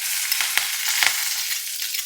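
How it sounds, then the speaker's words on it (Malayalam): Ginger, garlic, curry leaves and onion hit hot coconut oil after the mustard seeds have popped, giving a close, steady sizzle with a few brief stirring clatters. "കടുക് പൊട്ടിയ ശേഷം നമ്മൾ നേരത്തെ എടുത്ത് വെച്ച ഇഞ്ചി, വെളുത്തുള്ളി, കരിവേപ്പില, ഉള്ളി ഇത് ചേർത്ത് കൊടുക്കാം."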